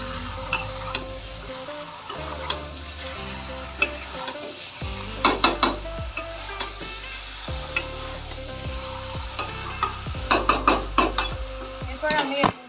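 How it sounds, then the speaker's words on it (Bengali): Onions fry in a pan with a steady sizzle while a utensil stirs them, scraping and clattering in repeated bursts over a low constant hum. "পেঁয়াজটাকে আপনাদের ভালো করে একটু ভাজতে হবে।"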